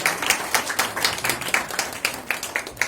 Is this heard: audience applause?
yes